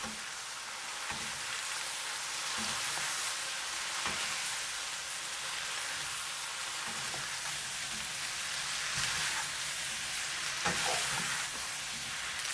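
Udon noodles with butter and seasoning sauce are stir-fried in a hot pan, giving a steady moderate sizzle with occasional scraping stirs and light clicks, no talking.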